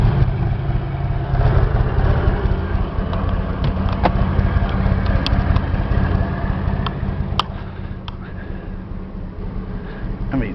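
A Ford E350 Winnebago Mini Winnie motorhome engine running, a loud, close, steady low rumble with a faint ticking, easing slightly toward the end, and a voice faintly in places.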